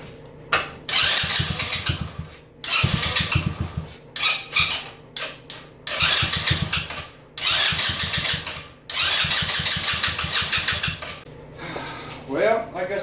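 The electric starter on a Coolster 125 with a fuel problem cranks in repeated bursts of rapid whirring churning, each lasting a second or two with short pauses between, while the engine never catches and runs.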